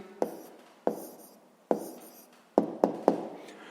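Pen writing an answer on paper during a sixth-grade maths exercise, heard as a few separate close scratchy strokes, each starting sharply and fading, with a quick cluster of three near the end.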